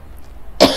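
A single sharp, close cough bursts out near the end after a quiet stretch, from a teacher who has been speaking loudly during a lesson.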